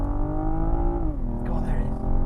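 2021 BMW M440i xDrive accelerating hard, its engine note climbing steadily before a gear change drops the pitch and it pulls again, loud from inside the cabin.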